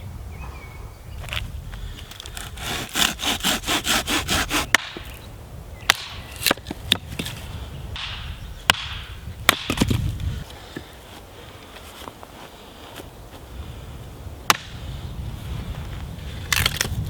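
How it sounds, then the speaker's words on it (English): Knife carving feather sticks from wood for a campfire: a run of quick rhythmic scraping strokes, then scattered sharp shaving snaps over a steady outdoor background. "Definitely need to work a bit on my feather sticks, but it's not half bad."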